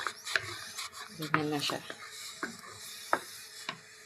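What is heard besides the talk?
stirring food in a pan while cooking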